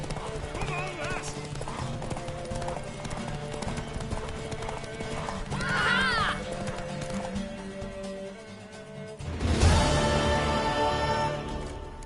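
Rhythmic clip-clop of horse hooves at a steady pace in The Witcher 3 video game, with a whinny midway and people talking over it, ending in a louder rush of hoofbeats.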